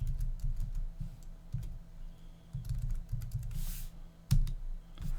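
Typing on a computer keyboard, a close series of quick irregular key clicks with a few louder taps, no voices.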